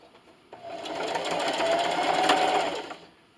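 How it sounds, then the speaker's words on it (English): Sewing machine running a straight stitch along fabric with a 1/4 inch seam allowance, a short continuous whir that ramps up, holds steady, then stops, close and without talk. "with a 1/4 inch seam allowance, I'm going to sew those three sides"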